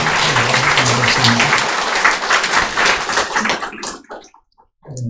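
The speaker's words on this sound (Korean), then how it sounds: "큰 박수로 환영하도록 하겠습니다" A church congregation applauds to welcome a guest, a loud, dense burst of clapping that carries for about four seconds before tapering into scattered claps and quiet.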